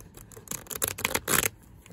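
A deck of narrow tarot cards is shuffled sideways by hand, giving a few quick rustling riffles and flicks that build to a denser burst near the end, close and fairly loud.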